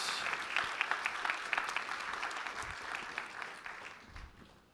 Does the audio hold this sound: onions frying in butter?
no